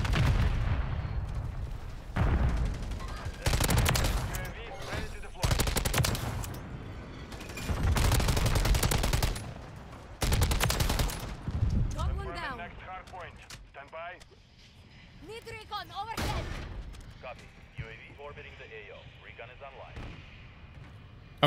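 Call of Duty MW3 VTOL killstreak gunfire: heavy bursts of booming fire in repeated loud volleys, then fading to quieter shots, with a voice speaking over parts of it.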